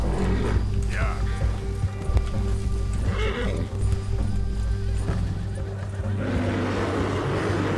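A horse in Red Dead Redemption 2 galloping with rapid hoofbeats and loud neighs, over game music and rumbling background, with a person talking.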